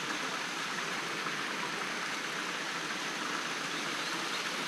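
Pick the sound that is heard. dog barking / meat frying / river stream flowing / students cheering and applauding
river stream flowing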